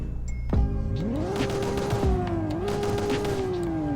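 A Nissan Skyline R32 engine in the Roblox game Greenville revs up after a sharp blip, its pitch climbing, holding high with a wavering dip, then easing slightly, loud and continuous with no talk.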